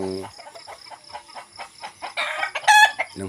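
Chickens clucking in short bursts on a banana farm, then a rooster's crow rising near the end, close by and fairly loud.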